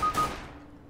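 A single loud gunshot in the video game CS:GO cracks sharply and then fades out in a short reverberant tail.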